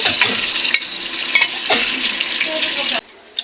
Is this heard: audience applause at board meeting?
no